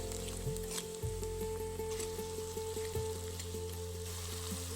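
Fried onion with hing, salt and turmeric powder sizzles steadily in a pan for bitter gourd (karela) curry, a continuous close frying hiss with occasional soft stirring clinks, with no voices.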